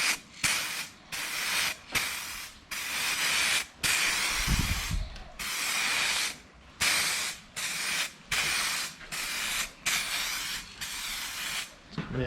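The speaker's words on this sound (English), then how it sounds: "So let's go ahead and do a spray test." An aerosol spray can hisses in a run of short and longer bursts separated by brief pauses while paint is sprayed onto a Honda Accord / Acura TSX Type S rear window visor, close and steady.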